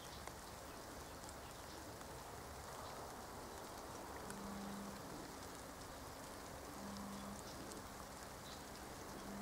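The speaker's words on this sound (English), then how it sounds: "It's starting to rain." Rain begins falling outdoors on an autumn walk, a faint, steady patter and hiss of drops with a low murmur beneath, distant and without voices.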